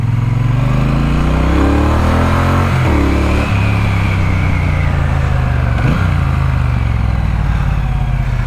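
A 2024 Triumph Bonneville T120 motorcycle accelerates hard on an open road, its engine climbing through gears with audible shifts and rising revs, loud and close throughout.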